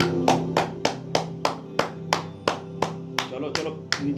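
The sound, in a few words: hands and feet clapping during exercise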